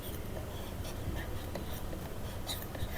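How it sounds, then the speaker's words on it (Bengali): A hand writing a chemistry formula, giving faint scratchy pen or chalk strokes in short irregular bursts over a quiet room background. "এই সূত্র আমি এবার লিখব"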